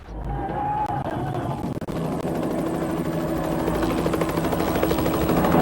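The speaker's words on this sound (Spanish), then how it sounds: "¿Sabes qué me muero en este momento mirando un helicóptero aquí al lado de nosotros?" A helicopter flies close by, its steady rotor drone and buzz loud and continuous, swelling slightly louder toward the end.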